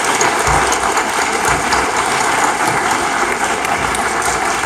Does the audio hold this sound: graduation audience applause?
yes